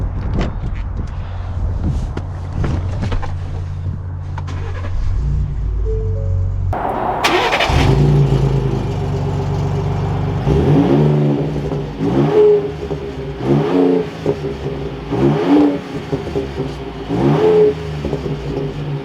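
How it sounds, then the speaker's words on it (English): A lifted second-generation Ford Raptor pickup with high mileage cranks and fires up with a sharp burst, then settles into a loud, close idle broken by several revs and pulls as it drives off. "let's take this lifted Gen 2 Raptor out and see how she drives."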